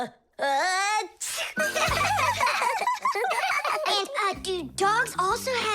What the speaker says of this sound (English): but then his nose tickled and achoo